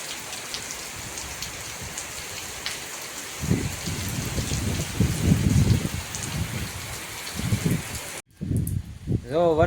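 Rain falls steadily outdoors, a hiss of drops with some heavier bursts in the middle, then a brief break before it resumes.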